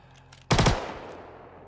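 A short burst of Behring P8 SMG fire in the video game Star Citizen, a sharp rapid volley of shots lasting a fraction of a second, loud and close, followed by a fading echo tail.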